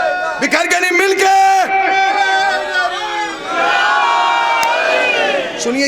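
A large gathering at a Shia religious assembly in Mauza Samaisa, Azamgarh, loudly chants the slogan Nara-e-Haideri in unison, with long sustained shouted calls and responses and overlapping voices close up.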